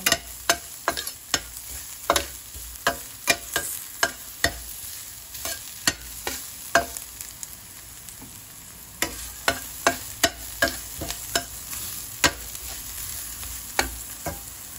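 Sautéing in a little oil in a pan while cooking sarsiadong isda, a low continuous sizzle broken by sharp, irregular spatula taps and scrapes, close up and with no voices.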